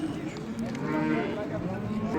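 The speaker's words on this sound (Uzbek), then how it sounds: "Mana bu sigirlarimiz." Cows at a livestock market give a drawn-out, low moo, close and loud over a busy background of people talking.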